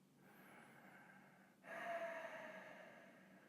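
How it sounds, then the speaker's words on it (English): Ujjayi ocean breath during a beginner yoga session, a soft steady hiss of breath through a narrowed throat that swells noticeably halfway through and then fades slowly, close and quiet with no talking. "Ujjayi breath, ocean breath"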